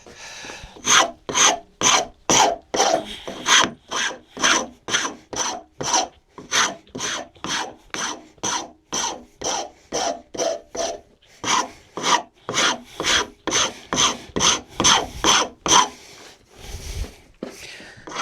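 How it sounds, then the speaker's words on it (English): Rasp filing wood for a dog gate, a long run of steady rhythmic strokes, each a coarse scraping rasp, close and loud, with a brief pause midway and a short different noise near the end. "The rasp."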